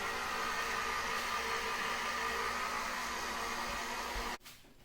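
A stand mixer kneads pizza dough made with olive oil, producing a steady, even motor whir that runs unbroken and then cuts off near the end.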